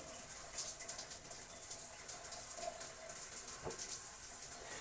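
Steady water spray from a Lorenzetti Aqua Duo Ultra electric shower runs continuously, a broad hiss close by with a faint tonal hum underneath, no voices.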